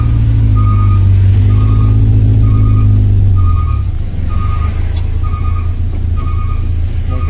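Stopped road traffic in a jam on the Jatiwangi–Sumedang route, loud idling truck engines rumbling close by with a repeating reversing beep pulsing throughout and the engine note dropping midway.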